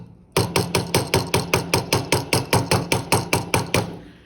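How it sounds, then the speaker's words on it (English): A ball peen hammer texturing a metal jewelry piece: about sixteen sharp, ringing metallic strikes in a steady, quick rhythm, close and loud, with no talking. "So we'll just start with the ball peen hammer."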